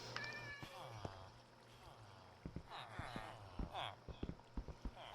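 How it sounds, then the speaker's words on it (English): Cats meow repeatedly inside a Minecraft game while one is trapped in a cauldron, bending wavering cries over a quiet low game hum, with sharp clicks and taps scattered between them and no talk. "Yeah, there's a cat trapped in there."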